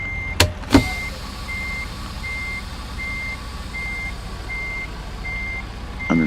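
Steady intermittent reverse-warning beeps from a truck in American Truck Simulator, evenly spaced and moderately loud over a low engine hum, with a couple of sharp clunks near the start.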